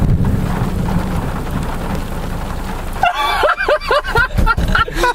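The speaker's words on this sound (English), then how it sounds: "That was a bolt almost on top of us. That's thunder." Thunder and heavy rain from a close lightning strike during a severe thunderstorm in Northern Ireland: a loud rumbling roar with rain hiss, followed by people talking excitedly over the fading storm.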